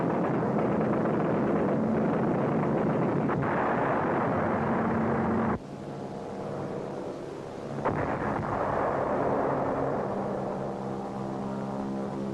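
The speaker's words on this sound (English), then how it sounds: "Offshore, supporting units of our fleet execute fire missions against the Naha area." Naval fleet guns fire on the Naha area of Okinawa in 1945, heard as loud, rumbling booms and a continuous roar with a sharp cut partway through, typical of old wartime newsreel sound.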